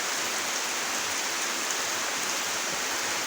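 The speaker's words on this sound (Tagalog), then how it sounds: "Lakas ng ulan." Heavy rain pours down steadily, a dense, even hiss of drops filling the whole stretch without letup, close and loud with no voices.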